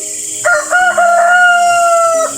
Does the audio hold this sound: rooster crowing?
yes